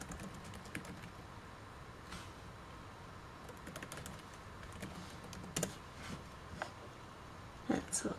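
Password being typed on the keyboard of an Acer C7 Chromebook, rendered as soft, irregular key clicks over a steady background hum, with a few sharper taps near the end.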